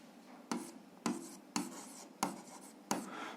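A pen writing out an algebra exercise, heard as five separate scratchy strokes spaced about half a second apart, each a short rasping burst that fades out. The writing is close and fairly quiet, with no voices.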